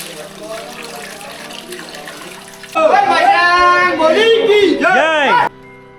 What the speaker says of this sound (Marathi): इथून या गोमुखातून गोदावरी नदीचं पाणी वाहत आहे